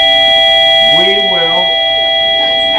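A school bell rings loudly in a classroom, a sustained, steady electric tone running the whole length, while a teacher speaks over it partway through.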